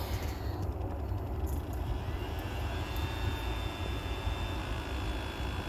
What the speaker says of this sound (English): The guy that starts blowing leaves every time we want to try to record this kid?